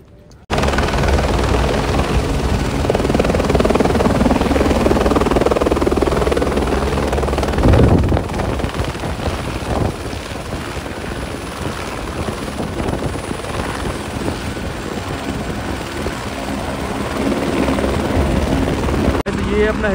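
Helicopter flying past near Kedarnath in snowy Himalayan mountains, a loud, close rotor thumping and engine roar that eases somewhat midway, with wind noise and a voice speaking over it.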